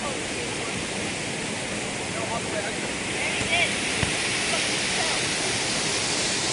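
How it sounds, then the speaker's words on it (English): A large waterfall spills into a deep swimming hole, making a constant, loud roaring wash of falling water throughout. "this is a much deeper hole with a bigger waterfall here"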